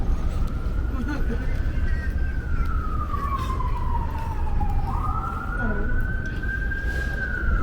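An ambulance siren wails with slow rising and falling pitch, steady and fairly loud over traffic rumble and street noise in Brooklyn, New York, with faint voices underneath.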